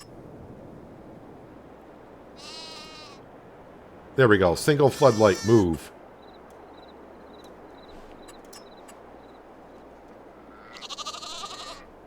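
Sheep bleating in a pen in Farming Simulator 22: one short bleat early, a longer one near the end, with someone talking over game background between them.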